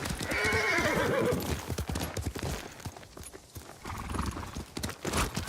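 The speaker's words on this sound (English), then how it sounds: "Faster, Sora!" A horse named Sora gallops in the video game Ghost of Tsushima, with rapid rhythmic hoofbeats close by and a whinny early on, the pounding strides continuing steadily to the end.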